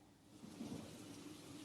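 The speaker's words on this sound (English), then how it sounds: "It was a rainy night." Steady rain hisses alongside a low, distant rumble of thunder that swells midway, a quiet nighttime storm ambience with no voices.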